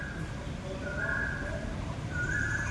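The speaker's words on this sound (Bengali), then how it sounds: "কোকিলের ডাক" An Asian koel calls in a quiet green park on a spring afternoon, its rising whistled notes clear but moderately distant over a steady low background hum.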